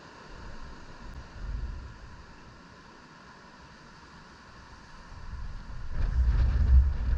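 Wind buffets a GoPro microphone in a hard case at a fishing lake, making a low rumbling roar that swells, eases off, then grows louder and gustier toward the end.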